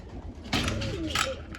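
Pigeons settling on a perch, a short burst of low soft cooing with a little rustling, heard close and alone over a faint background.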